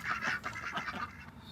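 Ducks quack repeatedly in a cold-weather farm pen, a steady cluster of nasal calls at close range with no talking over them.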